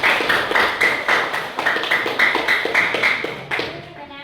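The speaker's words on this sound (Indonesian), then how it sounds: "Oke, tepuk tangan untuk kelompok 1 ya" A classroom of students claps for a student group after its presentation, a dense run of hand claps with regular swells at close range, with no talk over it and the clapping cut off at the end.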